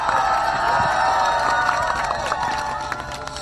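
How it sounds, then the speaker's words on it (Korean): A crowd at an outdoor political press conference in Yangpyeong claps and cheers steadily, a dense wash of applause from many people nearby. "큰 박수로 대표님 모시고 말씀 듣겠습니다"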